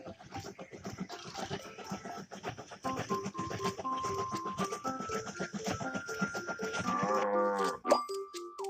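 Cartoon sheep standing on a train track in a nursery-rhyme train animation, with animal bleats mixed into a bouncy music bed with bell-like tones, growing busier and louder toward the end.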